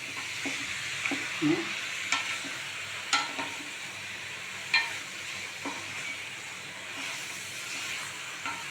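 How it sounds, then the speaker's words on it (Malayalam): Marinated mutton frying in a pan, a continuous close hissing sizzle broken by occasional spoon scrapes and taps as it is stirred, with no talking. "മാരിനേറ്റ് ചെയ്ത് വെച്ച് മട്ടൺ ഞാൻ ഇതിലേക്ക് ആഡ് ചെയ്യണം"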